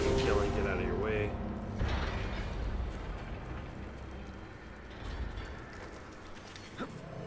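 A metal grate grinding and clanking open in the Destiny video game, a rough mechanical rumble under steady game ambience, with a sharper clank near the end.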